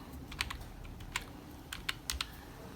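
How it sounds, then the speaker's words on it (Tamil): Soft keystrokes on a computer keyboard while a captcha is typed, a few scattered clicks and short bursts of taps against a quiet room hum, with no talking. "இப்போ கேப்சாவை டைப் பண்ணிக்கோங்க."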